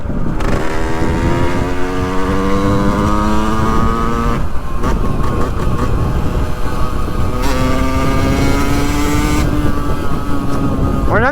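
Yamaha 50cc moped with a badly adjusted carburettor running loud and close, its buzzing two-stroke engine revving up and down unevenly, with rising and falling pitch throughout.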